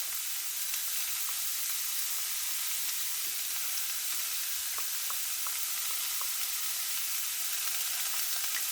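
Minced garlic and vegetables sautéing in a pan over low heat give a steady, even sizzle throughout, close and moderately loud, with occasional small pops and crackles and no voices.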